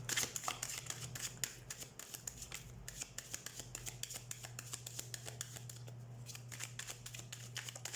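Tarot cards shuffled by hand in a steady run of crisp riffling flicks and slaps over a low constant hum, with no talking.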